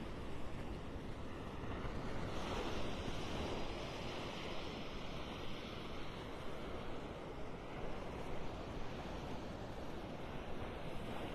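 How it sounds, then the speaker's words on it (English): Ocean surf rolls steadily onto a Gulf beach at Pelican Bay in North Naples, Florida, with a southeast breeze adding wind rumble; the broadband wash is continuous and fairly loud, with no voices. "a little bit of a surf this morning, a little surf action"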